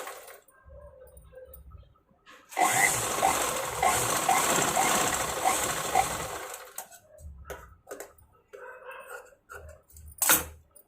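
An electric sewing machine runs loud and close for about three and a half seconds while stitching a blouse, with a rapid, steady whir, and a few scattered clicks and handling knocks come before and after it.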